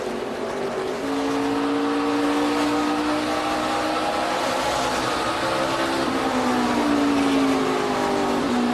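A race car engine drones steadily through the clip as the car downshifts on the approach to turn 1 at the 2014 Blue Jeans Go Green 200, with engine pitch dropping and rising in a continuous roar.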